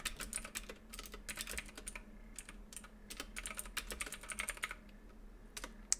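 Rapid, uneven keystrokes on a computer keyboard as a long master password is typed, close and steady for several seconds with brief pauses, no talking.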